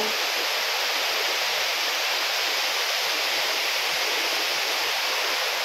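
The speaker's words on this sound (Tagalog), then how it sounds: "ang ganda po ng falls" Constant loud rushing roar of water at Engcanto Falls in Bikal, Libmanan, Camarines Sur, a dense unbroken wash of running water heard up close with no other sounds.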